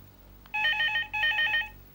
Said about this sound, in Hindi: संगीता, फोन उठा।